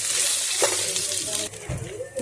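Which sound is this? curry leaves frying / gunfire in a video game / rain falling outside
curry leaves frying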